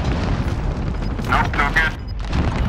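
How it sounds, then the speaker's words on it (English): Video game gunfire crackles in short bursts during a shooter match, several shots and booms mixed under steady talk from players. "They're shooting at me right now."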